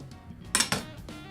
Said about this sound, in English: So we're just going to kind of cut some thin slices like that.